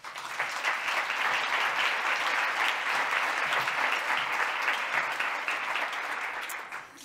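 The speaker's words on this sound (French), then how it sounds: "Je vous laisse l'applaudir." A hall audience at a French public talk on menopause applauds a gynecologist-obstetrician being introduced as the speaker. The dense, steady clapping carries on for several seconds before tapering off.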